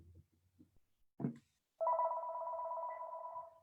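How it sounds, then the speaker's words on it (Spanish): A mobile phone rings loudly indoors during a spoken lecture, a sustained electronic ringtone that begins after a brief knock and a few faint sounds. "Dios mío, mi teléfono."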